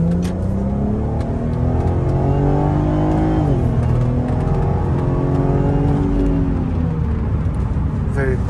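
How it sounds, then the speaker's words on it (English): A 2008 Audi TT 3.2L V6 convertible's engine hums steadily from inside the cabin on a highway, its pitch climbing and shifting through gears as it cruises, with constant road rumble beneath. "we're gonna try some highway to show you how the car drives"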